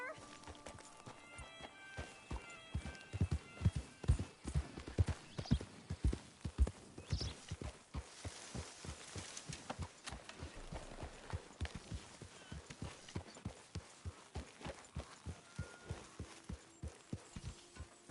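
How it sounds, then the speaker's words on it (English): Horse hooves clip-clopping in a video game, a steady rhythmic series of hoofbeats that runs the whole stretch at moderate volume, with brief spoken voices near the start. "get that horse out of here!"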